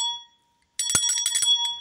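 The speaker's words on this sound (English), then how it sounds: "ring that bell" A notification bell sound effect: a bright ringing chime fades out, then after a short silence a fresh bell rings with a quick series of metallic strikes that keep shimmering.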